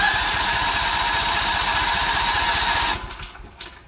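A Craftsman GT6000 lawn tractor engine runs loud and steady with a rapid rhythmic chug, then cuts out abruptly near the end, leaving faint sputters and a brief trailing noise.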